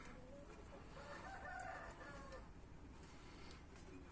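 A rooster crows once at middle distance among a group of roosters, a drawn-out call rising and falling over a faint steady background, fairly quiet overall.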